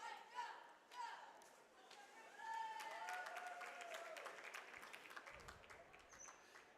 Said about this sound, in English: Little cheer there by the Franklin cheerleaders.